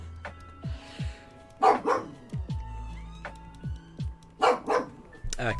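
A pet dog named Daruk barks several times at a distance, short sharp yaps spread across the stretch with brief whimper-like sounds between them, heard over a quiet room.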